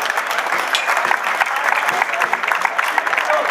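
An audience applauds musicians at a municipal event in Arroyito, a steady wash of many hands clapping throughout, moderately loud with no voices breaking through.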